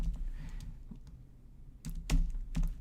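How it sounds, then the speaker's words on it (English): A URL typed on a computer keyboard: a few scattered soft key taps, then a quicker cluster of sharper clicks near the end, close and quiet with no speech. "I'm just going to type that in."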